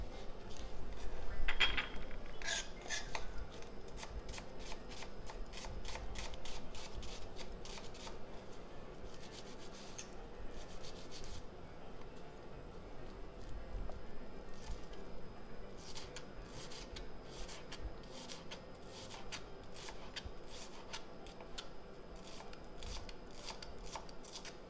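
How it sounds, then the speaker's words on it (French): Garlic clove and half a red onion finely chopped with a knife on a board. Rapid, steady, close tapping continues throughout with no talk. "une gousse d'ail qu'on va hacher finement et en même temps un demi-oignon rouge"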